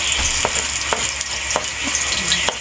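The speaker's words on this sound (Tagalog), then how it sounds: "para igisa na natin anong mga lamas. At syempre, unahin natin si bawang. Sunod si sibuyas." Garlic and onion sauté in a hot pan, with a loud, dense sizzle running throughout. Regular scraping knocks from stirring land about every half second.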